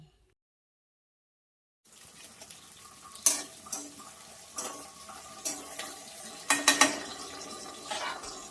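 Ingredients for a chutney sizzle in a pan after a quiet start, with a steady frying hiss and sharp clinks of a spoon stirring against the pan.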